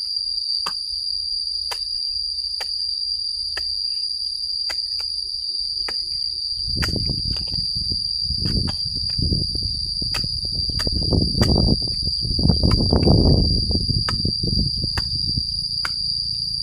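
Cicadas shrill in a steady high drone broken by regular clicks, with louder rustling and scratching up close partway through as an animal feeds on one in a vegetable garden.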